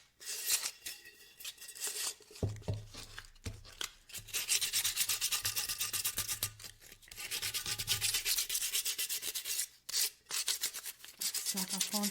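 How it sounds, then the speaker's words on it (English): Sandpaper rubs by hand across a small repurposed trash can wrapped in metal tape, in close, scratchy back-and-forth strokes with short pauses between passes. "try and use a bigger piece of sanding paper when you do sand"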